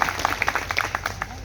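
Audience applause at an evening cultural programme honouring martyrs in Ramsanehighat, Barabanki, a steady burst of many hands clapping close by, dense and continuous for a second and a half.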